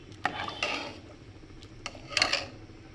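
A spoon scraping and clinking against a pot while rice and lentils are stirred for Bengali khichdi, a few distinct metallic knocks with soft shuffling between them.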